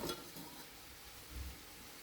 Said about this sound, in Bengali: এইবারেই সেদ্ধ করা মুগ ডালটা এতে দিয়ে দিচ্ছি